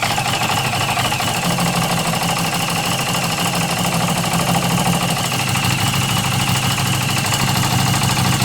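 A new motorcycle's engine idles steadily with the choke on, a continuous close rumble with a faint mechanical knock running evenly throughout.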